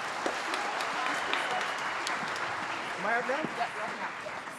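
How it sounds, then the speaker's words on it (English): Applause at a youth choir performance in Newfoundland and Labrador, a sustained wash of clapping from the audience lasting throughout, with some faint voices mixed in near the end. "Give him another round of applause."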